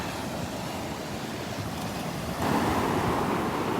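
Steady ocean surf breaks along a Gulf beach at Delnor-Wiggins, a continuous broad wash with wind noise on the microphone, swelling slightly louder in the last second and a half.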